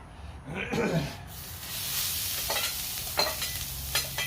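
Pork and broccoli stir fry sizzling in olive oil on a hot grill, a continuous hissing frizzle with a few stirring scrapes and faint talk.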